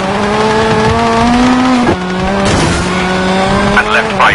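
A Citroen Xsara WRC rally car in the WRC 9 video game brakes hard into a hairpin, its engine note high and loud and then abruptly cut with a squeal before the revs climb again.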